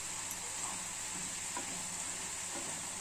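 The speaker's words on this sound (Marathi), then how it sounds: "बघा, छान असा कच्चा बटाटा शिजत आहे, शिजू द्यायचा।" Raw potato cooking in a pan, a faint, steady sizzle and hiss with soft scattered crackles, heard alone without talking.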